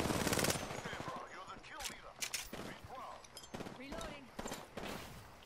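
Rapid automatic gunfire in the battle-royale shooter Apex Legends, several close bursts and single shots in quick succession, with a player talking over the shooting.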